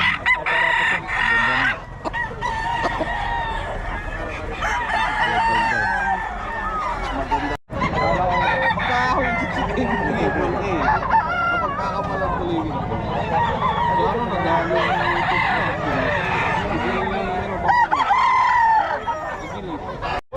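A Sweater Gilmore rooster crows loudly at a busy poultry market in Bocaue, with other fowl clucking and honking around it and people chatting in the background.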